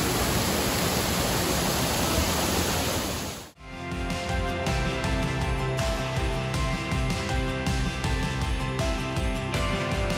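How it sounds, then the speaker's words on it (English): An indoor waterfall in the Opryland hotel pours as a steady broadband rush. After a brief dip the sound carries on in a more textured, layered wash, like the same roaring water heard from a new spot, with no talk. "Look down there at the foot of the waterfall."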